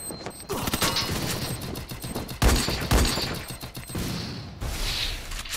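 Rapid bursts of gunfire from the mobile battle-royale game Free Fire Max, several sharp shots clustered around the middle with dense continuous game noise throughout, fairly loud.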